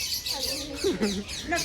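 Short chirping parrot calls mix with a nearby voice talking, the squawky notes coming in quick bursts over the speech.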